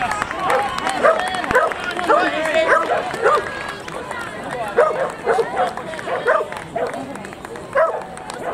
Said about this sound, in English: Dog's shouting them on.